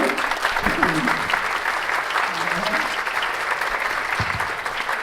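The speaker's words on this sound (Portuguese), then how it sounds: "Por favor, palmas para o Bruno." Audience at an academic panel session welcomes the moderator with sustained, dense applause filling the room, while a few voices murmur faintly underneath.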